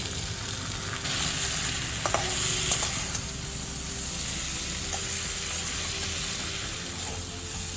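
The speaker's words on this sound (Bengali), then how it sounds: "শিমগুলো দেখুন মশলার সাথে আর একটু ভাজা ভাজা করে নিলাম" Beans and potatoes with spices fry in a wok, giving a steady close sizzle and crackle with a few clinks and stirring scrapes, without talk.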